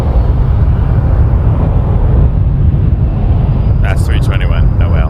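Airbus A321 airliner at Toronto Pearson airport, a steady loud broadband engine roar with wind rumble throughout, with people talking briefly near the end.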